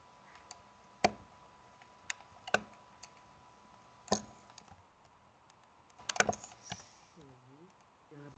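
Scattered, sparse clicks of keys on a computer keyboard while typing SQL code, individual taps spaced irregularly with a brief cluster near the end, fairly close and quiet.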